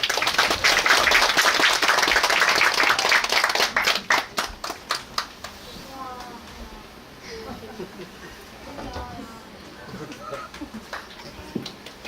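An audience at a humanities concert bursts into loud, dense applause for a singer. It thins into scattered claps after about four seconds and fades to a quiet room with faint murmuring.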